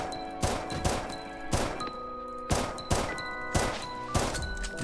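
Gunfire in a Minecraft gun PvP duel, with several loud, sharp video game shots in uneven bursts, each ringing out briefly before the next.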